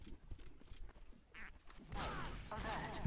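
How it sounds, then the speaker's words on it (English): Duck quacks in Team Fortress 2, a few short, nasal honking calls over game noise and a player's voice. "Duck sounds?"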